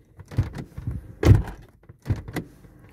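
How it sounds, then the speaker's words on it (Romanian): The door of a 2008 Toyota Corolla Verso is slammed shut during remote key programming, with a heavy central thump amid a few softer close knocks and clicks, in an otherwise quiet setting. "ușa trântită"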